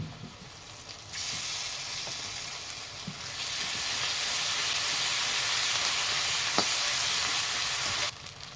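A paste of ground ginger, garlic, onion, cumin and coriander drops into hot oil and fries with a loud, steady sizzle that swells after the first second and holds, with a few scraping stirs.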